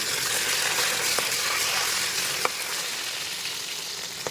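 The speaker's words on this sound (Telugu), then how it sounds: "ఇలా జాగ్రత్తగా చల్లలేకుండా మొత్తం అంతా ఫ్రై అయ్యేలా చేసుకోవాలి." Tomato pickle frying in a pan, a steady dense sizzle running throughout at even loudness, with a couple of faint clicks and no talking.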